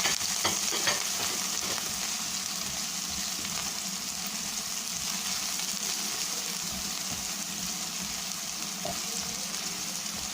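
Mushrooms sautéing in a pan for mushroom butter masala, a loud continuous sizzle with the scrape and stir of a spatula at the start, close and steady throughout, with no voices.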